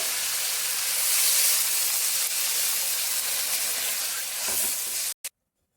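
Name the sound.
water poured into sautéed Malabar spinach sizzling in hot pan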